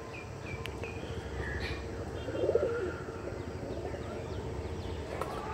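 Pigeons coo softly in a loft, a low murmuring call rising briefly in the middle, with insects chirring and faint distant birds around them.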